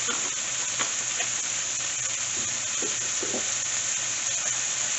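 Onion sautéing in a hot pan for turkey meatloaf, a steady, even sizzle and hiss with a few soft stirring taps, no voices.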